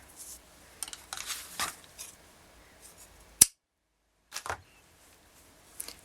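A few sharp snips of fabric scissors cutting soutache beading material, spaced irregularly with quiet gaps between, close by.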